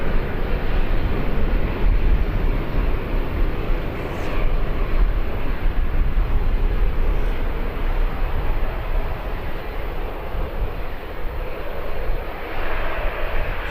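A Ryanair airliner just after landing at Birmingham Airport sends a steady, broad engine roar across the field, heard from a distance and holding level throughout, with no voices.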